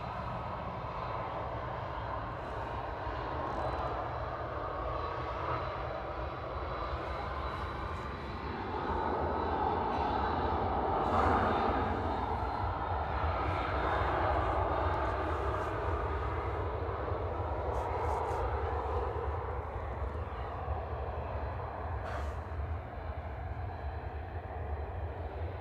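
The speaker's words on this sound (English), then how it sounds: "Qatar Gulfstream over there, just using its buckets." A Qatar Gulfstream business jet at Manchester Airport deploying its thrust reversers, heard from a distance as a sustained engine roar that swells in the middle and then eases off, with no talking.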